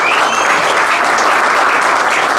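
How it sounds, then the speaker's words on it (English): Audience applause at a town council campaign event, a dense, steady wash of many hands clapping at full strength throughout, with no talk over it. "We need to clap for Project"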